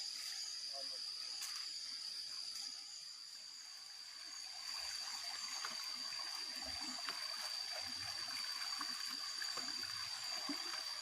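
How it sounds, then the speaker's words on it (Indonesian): A small river, the Kalidawe, flows beside a forest footpath through dense coffee trees, giving a steady, soft broadband rush of water with a constant high insect or cricket whine over it and no voices. "Setengah perjalanan, kami harus menyeberang sebuah sungai kecil bernama Kalidawe."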